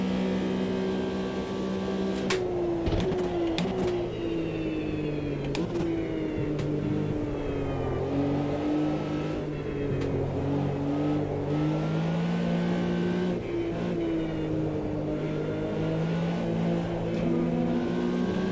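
An old Porsche 911 in the AMS 2 racing game, its engine droning steadily and rising and falling in pitch through gear changes, loud and continuous with no talk over it.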